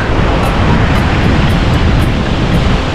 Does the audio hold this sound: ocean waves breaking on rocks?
yes